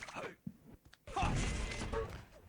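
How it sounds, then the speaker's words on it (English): Rocket impacts in a competitive Quake-style arena shooter match, heard as a sharp thud near the half-second mark followed by a loud, sustained blast of explosive noise after one second. "Another great rocket coming in from Agent."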